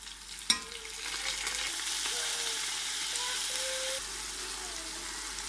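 Tomato paste sizzles in a hot frying pan with browned garlic and green chilies for beef pulao, a steady bright hiss running throughout with a sharp clatter near the start and faint stirring.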